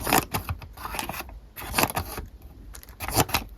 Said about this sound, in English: you have a pair of scissors.